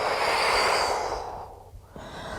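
A long, audible exhale during a slow guided exercise movement: a close, breathy rush of air that starts strong and gradually fades, followed by quieter breath noise.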